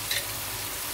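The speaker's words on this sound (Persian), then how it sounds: "گفتم یه تفت کوچولو میدم که بوی خامیش گرفته بشه" Tomato paste sizzles steadily in a hot pan, a constant close frying hiss through the whole short moment, with no voices.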